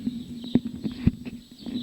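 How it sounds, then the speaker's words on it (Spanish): A roughly ten-year-old breeding stallion's hooves clop in a brief, uneven series of close, distinct knocks, with no talking. "Él es Uxmal, es un caballo de 10 años aproximadamente y ha sido utilizado como semental ya en varias temporadas."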